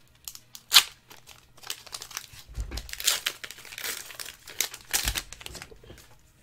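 Crinkling and tearing of a foil Pokemon Shining Legends booster pack wrapper being opened, close up, in irregular crackly bursts with sharp peaks, alone without talk.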